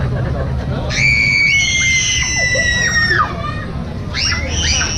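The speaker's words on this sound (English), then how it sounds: "I'm going to scream in the scream monster" A girl screams loudly into the scream monster attraction at Disneyland Paris during a Halloween visit: one long, high, shrill scream, then a shorter second one, over the murmur of a crowd.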